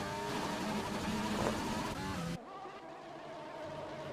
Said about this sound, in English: We got the gearbox glitch.